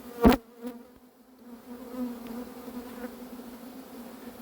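Honeybees from a captured swarm hum in a low, steady drone close by as they settle into a hive, with a sharp knock near the start and a few faint clicks.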